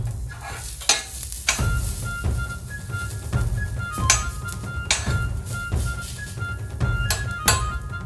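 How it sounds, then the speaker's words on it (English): Five garlic cloves sizzling in peanut oil on a Vevor 1600W electric flat-top griddle, a steady loud crackling fry with repeated scraping and clinking of a metal spatula stirring across the surface. "First adding in 5 cloves of garlic"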